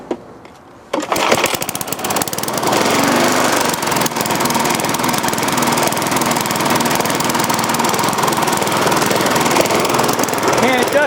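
Pull-cord start of a lawn mower engine under repair, a short quiet yank then the engine catching and running loud and steady with a rough, knocking rattle, up close.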